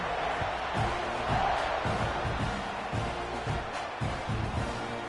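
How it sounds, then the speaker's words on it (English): Football stadium crowd at an Auburn vs Texas A&M game, a steady loud roar and buzz of many voices filling the space after a score, with rhythmic thumping underneath. "this crowd is buzzing after that last score"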